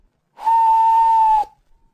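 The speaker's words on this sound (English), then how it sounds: "Presently he heard a whistle," Steam engine whistle, a single clear, steady, loud blast lasting about a second, starting and stopping cleanly against silence.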